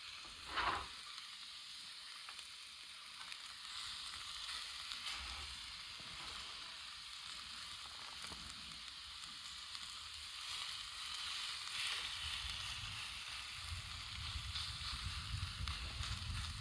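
Food searing in a cast iron skillet outdoors in the Appalachian woods, a soft continuous sizzle with a brief knock early on and a low rumble creeping in later, fairly quiet and steady with no talking.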